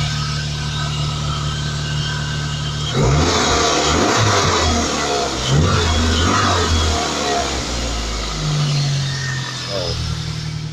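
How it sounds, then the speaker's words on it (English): A Toyota Corolla's engine idles loud and close, then revs up several times in quick surges before settling back toward idle. A voice is faintly present underneath. "The engine runs really sweet. I'll give it a quick rev."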